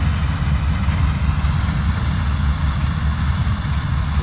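A farm machine's engine runs steadily with a loud, low rumble that stays constant and close, with no voices over it.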